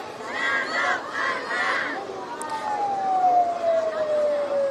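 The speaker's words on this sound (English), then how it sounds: "It sounds they're playing police sirens." A police siren wail played at a roadside protest at Mount Rushmore, a long descending tone rising clear in the second half beneath crowd voices and talk.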